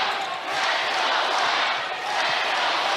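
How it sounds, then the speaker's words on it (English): A loud, dense basketball arena crowd roars and chants continuously during the closing minutes of an Iowa women's game at Drake, filling the space with sustained cheering voices. "Crowd chants loud"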